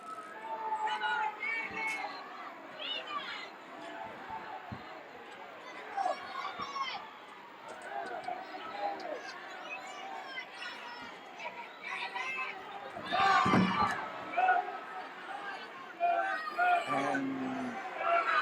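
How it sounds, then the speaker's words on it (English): Arena crowd at a 1979 wrestling match between David Von Erich and Gino Hernandez, a steady mass of yelling and chatter with louder swells, under a commentator's voice. "The crowd is affirming it and reaffirming it"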